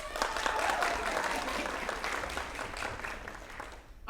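Audience applause fills a karate academy black belt graduation ceremony, a steady wash of many hands clapping close by that fades out near the end.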